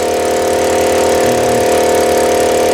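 A 1996 car's 3-litre V6, converted to run on gas, idles steadily with a constant droning hum and a faint whine, close and unbroken, with no voices.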